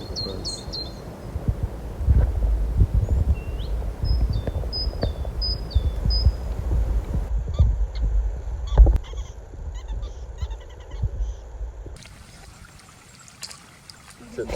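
Several birds give short, sharp calls and chirps at sunrise in Namibia, scattered over a low rumbling background with some water-like trickle, the calls fairly near and clear.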